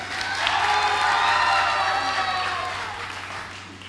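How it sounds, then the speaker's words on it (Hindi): A crowd at a mushaira poetry gathering in Phoolpur claps and cheers loudly, a broad sustained swell with whoops, slowly tapering off. "यहाँ के लोगों से मैं कहता हूँ कि ज़ोरदार तालियाँ बजा दें"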